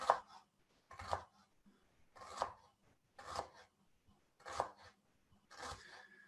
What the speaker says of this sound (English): Now we're going to slice it up nice and thin.